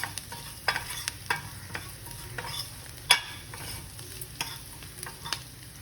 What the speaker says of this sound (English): I'm going to still continue to saute them more because I don't want them to be raw.